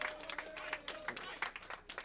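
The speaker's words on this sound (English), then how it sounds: "The crowd certainly rooting for Tony." A crowd at a candlepin bowling event claps and applauds in a dense, continuous patter. Scattered voices and cheers are mixed into the clapping.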